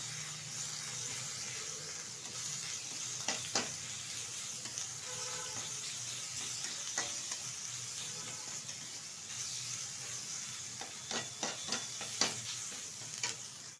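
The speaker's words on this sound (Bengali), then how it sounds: "এখন ভালোভাবে কষিয়ে নেব পেঁয়াজের সাথে" Onions sautéed with garlic and ginger paste in a pan, a soft continuous hiss of frying with scattered spatula scrapes and taps against the pan, faint and without speech.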